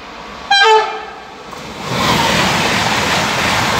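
A passing train sounds a loud horn in a short burst, then the broad roar of the cars rushing past near the track in Klánovice, Prague, rising and holding steady.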